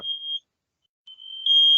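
A house smoke alarm goes off with loud, piercing high-pitched beeps, one short tone, a pause, then a longer sustained blare, close by with no voices.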